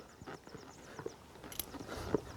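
A horse walks under a rider in an arena, its hooves giving soft, uneven clip-clop steps at close range amid quiet background, with no talking.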